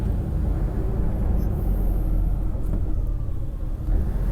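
Transperth buses idle and move through Elizabeth Quay bus station, a steady deep engine rumble and traffic roar that fills the whole stretch at moderate loudness.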